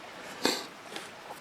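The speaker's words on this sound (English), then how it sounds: "so I just blow them out quick. That's what that sound you hear is." A quick breath blows out a burning sulfur-tipped wooden match splint, one short soft puff standing out clearly, followed by a fainter second breathy puff a moment later.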